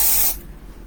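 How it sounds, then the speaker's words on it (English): Air freshener with a rose scent sprays indoors in one steady, close hiss lasting about a third of a second, then stops abruptly into quiet room tone. "get this spray. It makes your apartment smell like roses"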